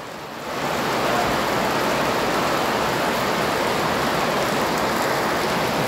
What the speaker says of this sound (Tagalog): Biglang bumuhos ang malakas na ulan.